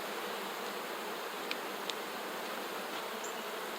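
Honey bees buzz around an open, brood-heavy beehive during an inspection, a steady faint hum running throughout with a couple of brief sharper ticks.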